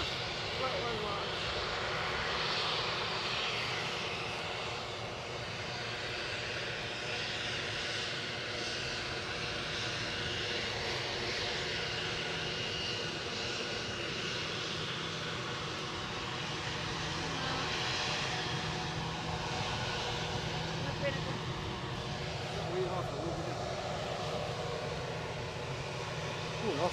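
An Austrian-registered EasyJet passenger jet at Edinburgh airport gives a steady, broad engine roar for nearly half a minute at moderate distance, with a voice talking at times over it.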